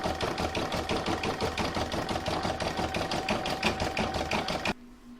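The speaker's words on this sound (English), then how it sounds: "I'm going to put that back in my machine and I'm going to stitch round number 4, which is the zigzag stitching that goes around the edge of the sack" An embroidery machine stitching a zigzag round around the edge of an appliqué sack on a Santa hoop design, a fast steady mechanical chatter with a faint whine, stopping abruptly near the end.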